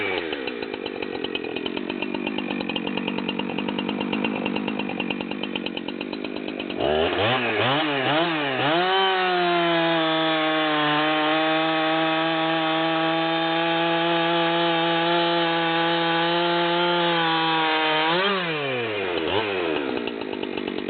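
Husqvarna 372XP X-Torq chainsaw cutting wood, its loud engine first idling and revving roughly, then holding a steady high-pitched whine through a long cut before dropping back; no voices.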